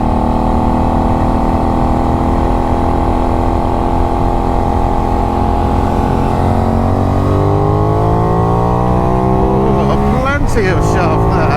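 A Benelli 752S motorcycle pulls hard in second gear on a dual carriageway, its engine note climbing steadily and loudly through the revs before a brief shift near the end, with wind rush throughout.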